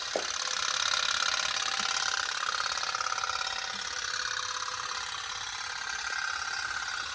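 A candle-powered toy pop-pop boat runs with a continuous fast puttering buzz, steady and fairly close, with a faint tap near the start and no voices.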